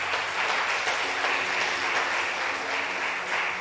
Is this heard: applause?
yes